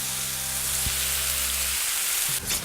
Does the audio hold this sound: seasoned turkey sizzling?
yes